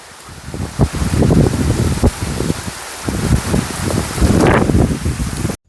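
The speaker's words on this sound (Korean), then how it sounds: "비 너무 많이 오잖아 지금 태풍 왔다니까" Heavy typhoon rain pours in a dense, loud, continuous roar, with gusty wind buffeting the microphone throughout.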